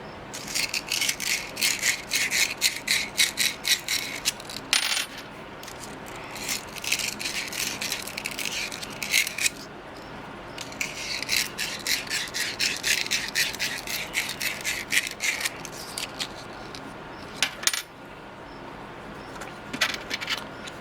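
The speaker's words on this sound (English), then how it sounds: "We're going to rough up the bushings with some sandpaper." Pen bushings are roughed up with sandpaper in rapid back-and-forth bursts, a close, papery rasping that repeats in fast strokes with short pauses between rounds.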